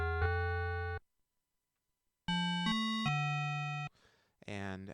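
Korg DW-8000 synthesizer bell-sound waveform: a bright metallic tone held for about a second, a pause, then a short run of three held notes, followed by faint noise and a brief tonal burst near the end.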